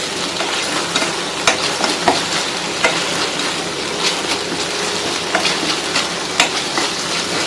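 Tomato masala for spicy deep fry chicken sizzles steadily in a pan while a spoon scrapes and taps through it in irregular strokes, close and continuous.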